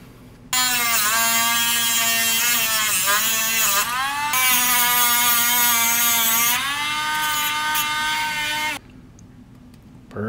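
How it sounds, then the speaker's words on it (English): A Dremel rotary tool whines steadily at high speed for several seconds while snipping off wire ends, its pitch dipping briefly under load before it stops abruptly. "And I'm going to do that with a rotary tool"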